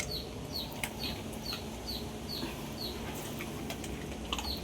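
Chicks peep in short, repeated high chirps at a steady rhythm over a constant background hiss, with a few faint clicks scattered through.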